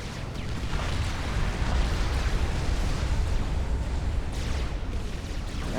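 A T3 mech explodes in Supreme Commander: Forged Alliance, amid a continuous heavy rumble of blasts and battle noise that stays loud and dense throughout.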